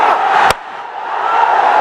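Roaring stands at a Bangladesh vs Pakistan T20 cricket match, a sustained crowd cheer broken by a sharp brief crack, then swelling back up loudly.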